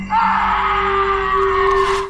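Soldiers screaming, a single sustained loud wail lasting about two seconds before cutting off abruptly, rising from a droning background.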